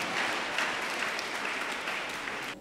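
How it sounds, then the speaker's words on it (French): Congregation applauding at a church service, a steady dense wash of clapping that holds evenly for a few seconds, moderately loud and close, with no clear talk over it. "On acclame pour lui."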